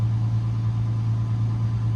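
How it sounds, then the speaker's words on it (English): A car engine idling while its alternator works harder under the load of a portable power station charger, a steady low hum with a faint pulsing drone, close and unchanging for two seconds. "I can hear the alternator starting to work a little harder on the vehicle"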